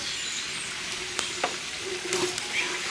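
Rice with spices, garlic paste, ginger paste, green chili and salt fries for a village hilsa pulao, giving a steady close sizzle with a few stirring scrapes and clacks, no voices.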